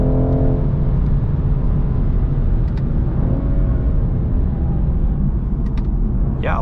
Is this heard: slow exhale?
no